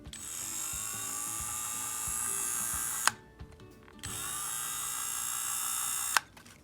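A handheld electric drill whirs steadily at high speed for about three seconds, stops with a click, then runs again for another two seconds before cutting off.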